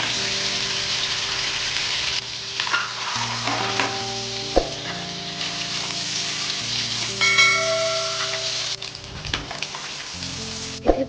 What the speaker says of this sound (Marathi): फ्राय करते वेळेस पनीरचा असा मोठा प्लेट टाकून घ्यायचा एकदा